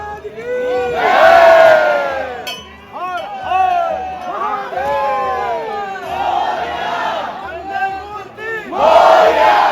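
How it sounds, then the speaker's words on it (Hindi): A large crowd of devotees at Mahakaleshwar temple in Ujjain raises loud, overlapping chants and shouts in surging waves, with faint clinks mixed in. "जैसा कि आप देख सकते हैं कि कितनी ज्यादा यहाँ पे भक्तों की भी भीड़"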